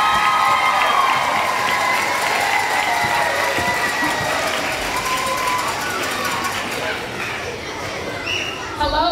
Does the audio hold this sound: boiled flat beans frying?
no